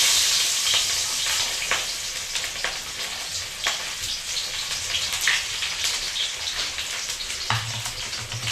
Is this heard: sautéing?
yes